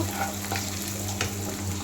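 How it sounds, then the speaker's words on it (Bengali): Onions frying in a pan until reddish brown, a steady close sizzle with soft crackles and a faint stir near the middle, no voices. "ওই জন্য পেঁয়াজটা ভাজছি লাল লাল করে।"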